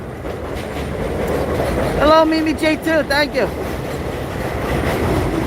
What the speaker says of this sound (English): This is the subway system over here. This is the L. This will take you right into Manhattan. This is the D train.